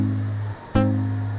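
A palm-muted two-note guitar dyad from a song sounds twice, a low, damped tone that drops out briefly and is struck again, held close and steady.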